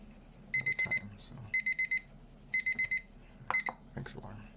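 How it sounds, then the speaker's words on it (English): An alarm clock rings in quick electronic beep bursts, four beeps per burst, repeating in several evenly spaced groups, close and clear over a quiet room. "Thanks, alarm."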